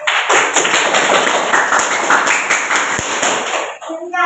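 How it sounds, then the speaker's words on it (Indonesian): Classroom audience applause at a teachers' program event in Sampang, a dense steady burst of clapping filling the room before fading at the end. "Terus kasih aplaus."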